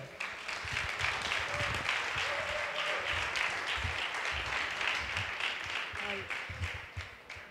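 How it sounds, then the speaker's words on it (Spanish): Steady applause from an audience, a continuous wash of many hands clapping at moderate volume throughout, with a few voices mixed in. "Aplauso, por favor."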